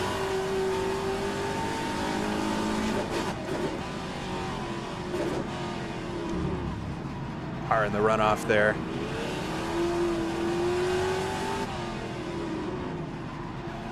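Classic Trans-Am race cars at Adelaide, engines droning and revving through a long stretch with a brief louder burst midway, heard under a commentator's voice.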